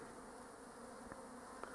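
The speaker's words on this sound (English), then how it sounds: "A lot of bees coming and going, a few drones." Honey bees and a few drones fly around a hive by a barn roof. A steady, faint buzzing hum fills the air from start to finish and the odd louder bee passes close by.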